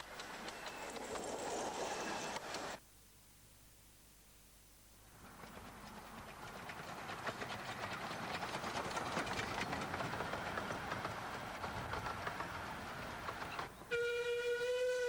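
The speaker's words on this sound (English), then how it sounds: "As number 7 departs for Hythe, number 3, Southern Maid, arrives bound for New Romney." Miniature steam trains on the Romney, Hythe and Dymchurch Railway: one departs for Hythe as another arrives bound for New Romney, with a steady rumble and clatter of wheels, a quieter gap, then a loud whistle blast near the end.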